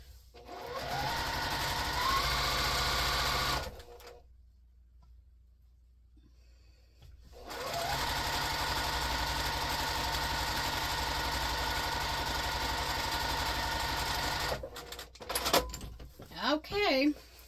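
A sewing machine stitches a quilt-as-you-go pumpkin potholder in long steady runs, pausing into near silence midway before resuming, with a brief burst of handling noise and fabric rustle near the end.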